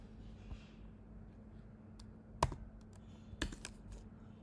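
A few sparse, sharp computer keyboard clicks land in short bursts over a steady low room hum, close and fairly quiet, with no talking.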